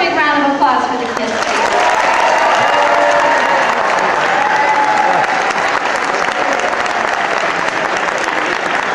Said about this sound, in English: Let's do one more big round of applause for the kids.